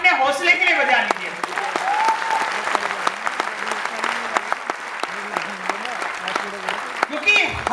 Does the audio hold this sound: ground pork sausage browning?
no